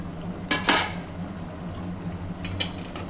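Chicken frying in oil in a pan on a home stove, a steady low bubbling sizzle with a couple of brief metallic clinks of a utensil against the pan, no voices.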